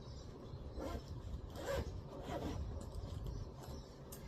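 The zipper of a small quilted fabric pouch is pulled open in a few soft, close rasping strokes, quiet and clear with no talking.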